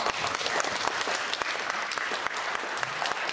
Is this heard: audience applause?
yes